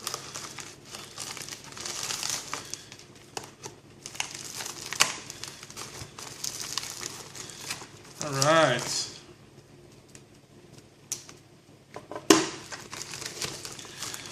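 Packing paper crinkles and rustles while a Kershaw Blur S30V folding knife is unboxed, with broadband crackling bursts through most of the stretch and a louder crumple near the end, under occasional close speech.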